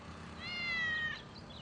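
A cat on a slow, low-speed road gives one drawn-out, rising then falling meow, clear and fairly close over a steady low background rumble.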